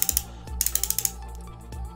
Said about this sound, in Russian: трещотка